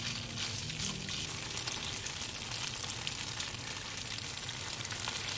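Thin slices of beef sear in hot oil in a pan, giving a steady bright crackle and sizzle at close range that holds even throughout, with no voices.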